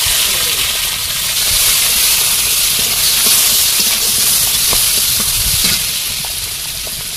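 Chopped onion and garlic hiss and crackle in hot oil with five-spice seeds in a wok, a loud continuous sizzle with scattered pops, easing slightly near the end.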